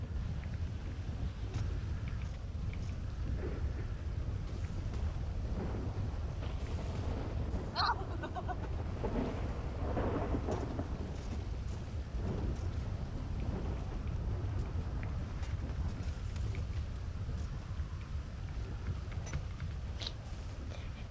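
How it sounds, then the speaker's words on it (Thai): Steady rain hisses continuously while thunder rumbles low underneath, with a brief sharper crack partway through; the storm sounds moderately near and evenly loud throughout. "เสียงฟ้าผ่า"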